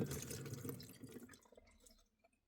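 Water drains from a toy play-kitchen sink fitted in a minivan, a quick trickling flow with soft drips that is steady for over a second, then thins to scattered faint drops and stops.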